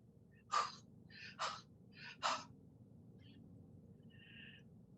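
A voice imitates breathing on glass to fog it, giving three short, airy breathy bursts in quick succession, close and clear over a faint room hum, then a soft faint trailing breath.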